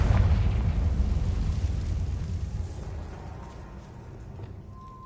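A Confringo spell detonates in the Hogwarts Legacy video game, a loud, deep boom at the start that rolls into a long rumbling decay and fades over several seconds, with no voices.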